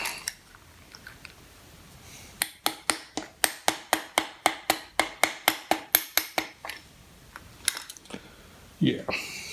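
Rapid, evenly spaced metallic taps ring out on a Suzuki GSX-R 750 SRAD cylinder to free the stuck pistons, a burst of about eighteen sharp close hits followed by a few scattered knocks and handling sounds.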